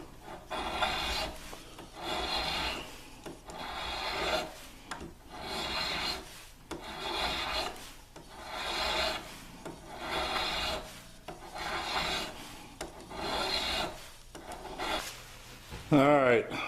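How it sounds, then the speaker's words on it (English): A hand file rasps on target sights for a T/C Hawken rifle in about a dozen steady, evenly spaced back-and-forth strokes, close and distinct. "Alright, I got the filing done."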